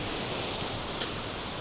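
River rapids rush near a waterfall, producing a loud, continuous broadband roar of churning water that holds steady throughout.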